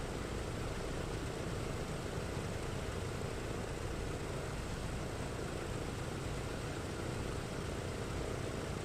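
The four propeller engines of a PMDG DC-6 warming up around 1,000 RPM in Microsoft Flight Simulator, a steady, dense engine drone that holds constant throughout with no variation.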